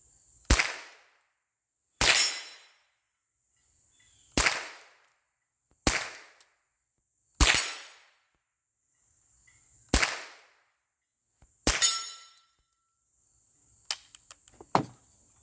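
Shots from the last magazine, fired singly at intervals of roughly one to two seconds: about eight sharp, loud cracks, each with a short decaying tail, and a faint steady high whine between them.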